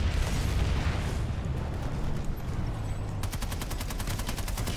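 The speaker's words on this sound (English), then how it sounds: "I got shot while I was respawning" Gunfire in the online shooter PlanetSide 2: a dense, booming battle din with distant explosions, then a rapid automatic weapon firing a fast, even stream of shots up close.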